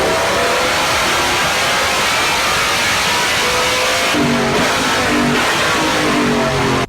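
A BMW E46 M3 Motorsport race car with a cross-plane S65 B40 4.4-litre stroker V8 and sequential gearbox roars loudly and continuously, revving hard with quick upshift breaks near the end, no talk.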